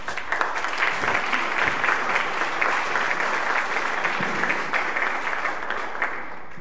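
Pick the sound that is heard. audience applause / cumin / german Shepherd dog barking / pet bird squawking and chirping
audience applause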